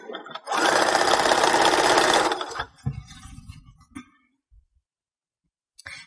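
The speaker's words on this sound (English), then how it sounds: "And then just keep sewing." A sewing machine runs in one steady burst for about two seconds while stitching along the edge of a Christmas Santa skirt. Brief clicks and handling noises follow, then near silence.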